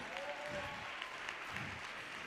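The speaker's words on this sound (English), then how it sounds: "Clap your hands for yourself." An audience at a youth empowerment event claps hands together, the applause faint and distant, forming a soft, brief patter over a room murmur.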